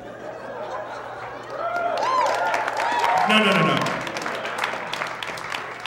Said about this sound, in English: It was not full applause. There was giant pockets of no applause.